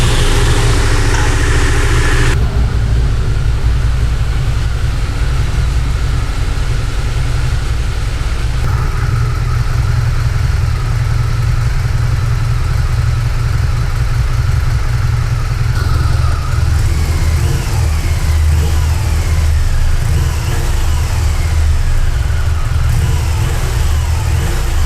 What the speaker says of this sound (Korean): 자, 시동 걸어보도록 할게요.